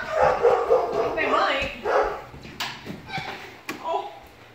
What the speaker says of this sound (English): Oh, his bark sounds so pathetic.